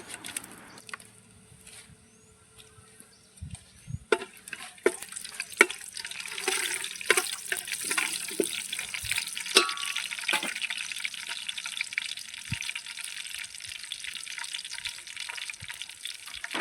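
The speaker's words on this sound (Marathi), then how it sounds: "आता इथे मस्त बिर्याणीला फोडणी मारून घेऊया याच्यामध्ये ना ऑइल टाकलेलं आहे" Whole spices hit hot oil in a pot over a wood-fired village chulha for chicken biryani. A steady crackling sizzle with scattered pops builds after a quiet start and runs on alone at moderate loudness.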